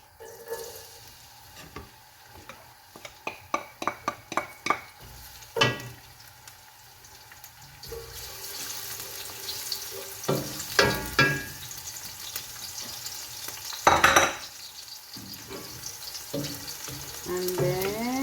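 Garlic goes into reheated frying oil, starting with a series of sharp clicks and taps, then a steady crackling sizzle with occasional louder pops and stirring scrapes, fairly quiet and close.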